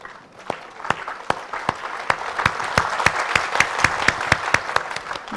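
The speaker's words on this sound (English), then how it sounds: "Let's start soft clap." Attendees at a business leadership live event clap in unison, a loud steady series of sharp synchronized claps at a brisk even pace over a soft crowd murmur.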